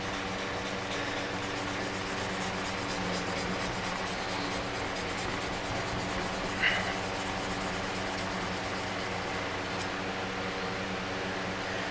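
Hand wet polishing, a steady close abrasive rubbing and hiss that continues evenly throughout with a brief tap partway through.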